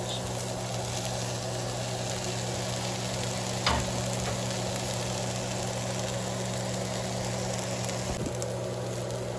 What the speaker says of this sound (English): Now with the cabbage, you want to thoroughly mix it through with all of the sauteed vegetables